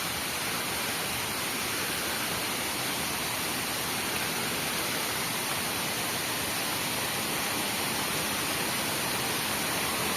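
A forest waterfall at a rural ashram in Odisha roars as a dense, unbroken rush of falling water, loud and constant throughout with no voices.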